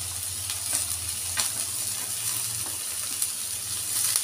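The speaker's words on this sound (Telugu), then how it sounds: "కాసేపు లో ఫ్లేమ్లో పెట్టి దీన్ని వేయించుకుంటాం బాగా" Potatoes and curry leaves fry in a pan over low flame, a steady bright sizzle with soft crackles and occasional stirring scrapes beneath a low hum.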